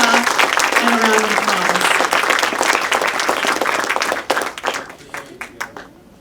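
An audience at a panel discussion breaks into loud sustained applause for the Wai family, which then thins out into scattered claps and fades.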